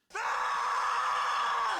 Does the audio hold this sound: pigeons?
no